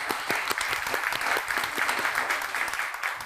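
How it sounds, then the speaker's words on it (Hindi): A studio audience breaks into loud, sustained applause, many hands clapping together at close range in a continuous rhythmic burst with no talk over it. "इस बात के लिए जोरदार तालियां दोस्तों।"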